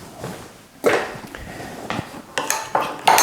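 A big spoon scrapes and clinks around a bowl while honey paste with five-spice is stirred, several sharp knocks and scraping strokes, close and fairly loud.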